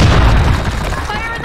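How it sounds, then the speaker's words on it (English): Grenade blast in the shooter game Blackshot, a loud booming burst that opens the clip and rumbles away over about a second, with game voices calling out around it. "Grenade! Fire in the hole!"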